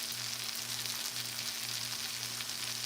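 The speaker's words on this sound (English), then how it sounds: "I am stir-frying it a little bit so that I can also throw in some shrimp in there." Tomato, onion and serrano pepper stir-frying in a pan, a steady close sizzle and crackle running throughout with a low pulsing hum underneath, no talking.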